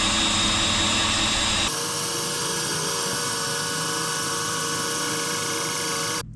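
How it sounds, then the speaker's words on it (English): A power drill whines loudly and continuously as it drives a car AC compressor used as an air compressor, the tone shifting once early on, then holding steady until it stops. "Now I have a slightly higher torque drill."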